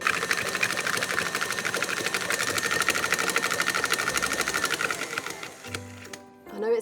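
An electric mixer beats sugar cookie dough with a steady, buzzing, rapid whir that runs for about five seconds and then stops, followed by a brief moment of talk.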